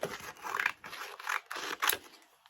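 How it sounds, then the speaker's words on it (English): Scissors cutting through sandpaper, a run of five rasping, scratchy snips with short pauses between them, close and clear. "I'm cutting up some sandpaper here"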